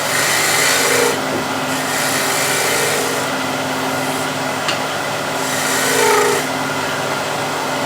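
A gouge cutting a spinning wooden spindle on a lathe gives a steady, loud scraping rasp with slight vibration, and the pitch and pressure shift in several long passes.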